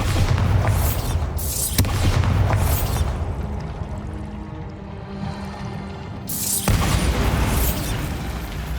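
A Bombarda spell explosion in Hogwarts Legacy: heavy booming bursts at the start, a rumbling lull, then another loud blast that roars on to the end.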